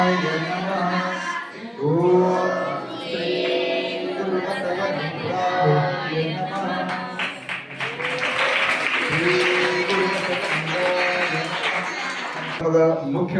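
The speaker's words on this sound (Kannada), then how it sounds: "ತಾವೆಲ್ಲರೂ ಜೋರಾಗಿ ಚಪ್ಪಾಳೆ ತಟ್ಟುವುದರ ಮುಖಾಂತರ ಧನ್ಯವಾದಗಳನ್ನು" Audience at a ceremony honouring a couple with blessings from a revered swami claps steadily in a broad, sustained wash that swells in the second half, mixed with crowd chatter and a voice over a loudspeaker.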